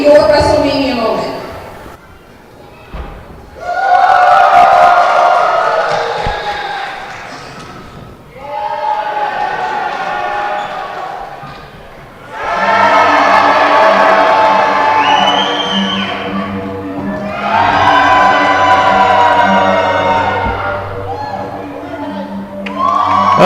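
A wrestling event crowd roars and cheers in swelling waves, loud and reverberant, with shouts and whoops rising and falling over several bursts while a voice talks over the noise.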